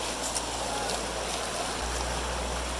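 Continuous rushing of a creek flowing nearby in Western North Carolina, a steady broadband wash of water.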